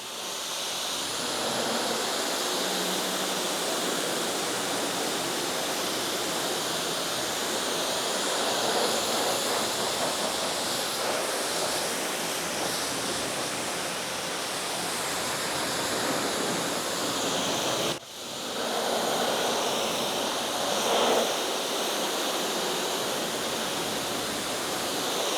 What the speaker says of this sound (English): I'm gonna rinse it off and see how it looks afterwards